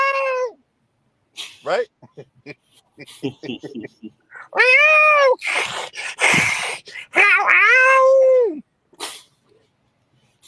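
A man imitates a cat with his voice, letting out several exaggerated, drawn-out meows and yowls in short bursts, loud and close, broken by pauses and brief talk.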